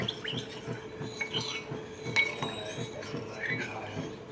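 A spoon clinks repeatedly against a bowl while mixing custard powder into milk, quick rhythmic taps close by with faint background chirps.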